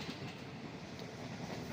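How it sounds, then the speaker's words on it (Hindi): Inside a Pakistan Business Express passenger train running between Rahim Yar Khan and Lahore, a muffled steady rumble of wheels on the track rolls on continuously at low volume. "नेक्स्ट स्टेशन के लिए मेरी गाड़ी चलना शुरू हो गई थी।"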